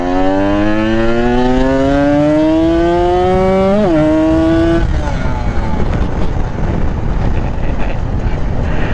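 A Kawasaki ZX motorcycle engine on its stock 1878 crank with a PWK 28 carburetor is revved during a test, pitch climbing steadily to a peak, then falling back and settling into a rough, loud idle; no talking.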